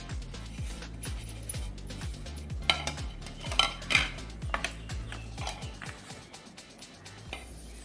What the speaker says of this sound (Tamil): இப்போ இது எல்லாத்தையும் நம்ம மீனோட சேர்த்து மிக்ஸ் பண்ணிக்கலாம்